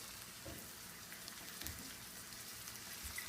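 Garlic tarka for moong dal sizzling in a pan, a quiet continuous crackle and hiss with small pops scattered through it, steady and without any voices.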